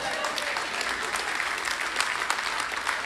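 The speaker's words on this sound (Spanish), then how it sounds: "Ese aplauso fue de ópera" Church audience claps during a pastor's sermon, a lively, sustained round of applause from a sizable crowd with a steady, dense texture throughout.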